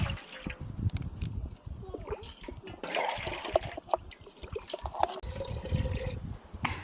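Water splashes and trickles as it is poured into a cooking pot of goat intestine curry, in uneven, close pours with drips and clatter, while people talk quietly nearby.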